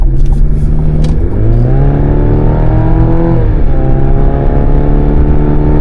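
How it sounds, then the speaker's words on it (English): A 2024 Chevy Colorado ZR2 pickup accelerates down an on-ramp onto an interstate, heard from inside the cab. The engine drones loudly, rising in pitch through a gear, briefly dropping at a shift, then climbing again under steady road noise. "So I'm gonna give it a little bit of gas to see how it feels."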